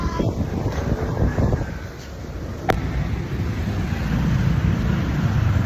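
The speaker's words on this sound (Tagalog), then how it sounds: "Kasi mahangin." Strong wind buffets the microphone outdoors, a continuous low rumbling roar that swells toward the end, with faint voices buried beneath it.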